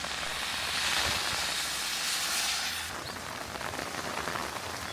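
Steady, dense heavy rain hiss fills the whole stretch on Jeju Island, South Korea, a broad wash of drops drumming on surfaces with no voices.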